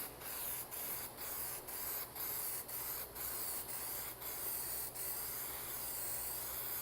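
Paint spray gun applying a test coat of car paint to a body panel during a cheap professional paint job, a loud hissing spray in about a dozen short pulsed bursts with brief gaps, alone.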